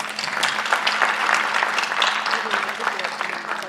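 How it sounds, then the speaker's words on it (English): Sustained, dense applause from an audience of staff and guests at a strategic plan launch in a hall, loud and even throughout with no break. "kindly let us all clap for ourselves"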